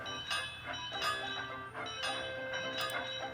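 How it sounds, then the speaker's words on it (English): Repeated clanging of a tram engine's bell in a children's animated railway story, several bright rings over a low rumbling background. "He heard the banging and Toby's bell."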